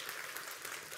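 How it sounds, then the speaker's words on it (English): A brief burst of dense audience applause at a church talk, a steady wash of many hands clapping throughout. "Can we give a round of applause to our"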